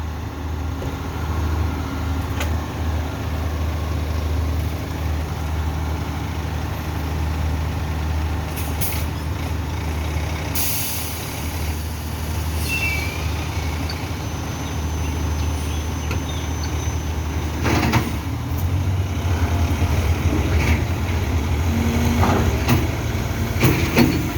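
A tow truck's engine drones steadily while pulling a stuck car, a continuous heavy rumble with occasional hissing and clanking bursts, no voices.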